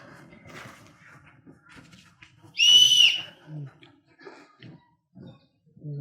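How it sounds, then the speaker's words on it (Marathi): A sharp, loud whistle blown by someone in a village, lasting about a second and standing out clearly above quieter talk that continues before and after it. "शिट्टी कोणी वाजवली कडे?"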